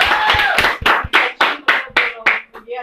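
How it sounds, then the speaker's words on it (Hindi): An audience claps for Salim sir, a burst of hand claps that settles into a slowing rhythm of about a dozen distinct, close claps with a voice briefly underneath. "तो सलीम सर के लिए भी तालियां बजाएं"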